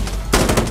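A short, loud burst of rapid gunfire in an FPS video game, heard through a Logitech G331 gaming headset, starts abruptly after a moment of low rumble, the shots coming in quick succession.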